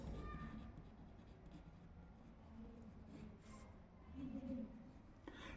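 Faint scratching of writing on paper while a class 10 maths problem about wheel revolutions is worked out, with a voice talking quietly over it.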